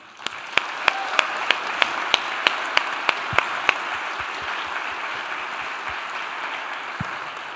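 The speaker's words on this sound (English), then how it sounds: "So a big round of applause for all of them." An audience at a CascadiaJS 2024 tech conference applauds its donors. A few loud, evenly spaced claps sound close by over a broad wash of crowd applause that holds steady and then thins out.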